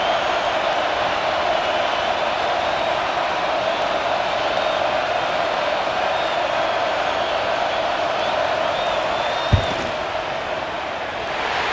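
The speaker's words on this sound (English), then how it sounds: "This crowd trying to do its part to get inside the kicker's head." Steady, loud roar of a stadium crowd during a field goal attempt in the College Football 26 video game, a constant wash of voices with one sharp thump near the end.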